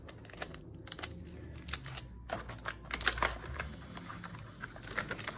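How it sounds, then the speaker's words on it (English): Adhesive tape pulled off the roll while making a cow mask, heard as a few short, close ripping and crackling bursts scattered among light handling clicks, with no speech. "Hold on, let me get this tape going."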